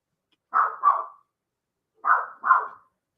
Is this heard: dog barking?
yes